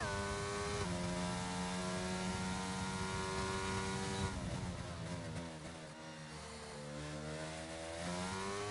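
Racing cars in a racing video game at the Austria round drone with high-revving engines, pitch stepping through gear changes and sweeping up and down as cars pass, steady and continuous with no talk.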